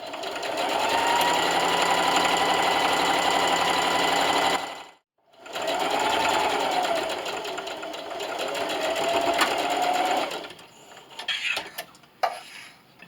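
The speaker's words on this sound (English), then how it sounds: "So you want to backstitch and just sew down this entire side" A sewing machine runs in long continuous stretches while stitching the side seam of a plastic bag dispenser, with a brief pause partway through and a few clicks and handling noises as it slows at the end.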